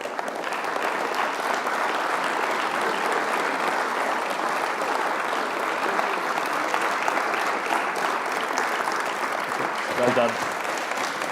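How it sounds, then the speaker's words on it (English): An audience at a lecture on Irish national sovereignty in Galway claps in loud, steady, sustained applause, with a voice briefly speaking over it near the end. "I should receive a round of applause in Galway."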